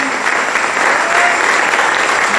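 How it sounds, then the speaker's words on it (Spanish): A church congregation at a Sunday service breaks into loud, dense applause, a continuous burst of clapping with no talking over it. "Den un aplauso, iglesia"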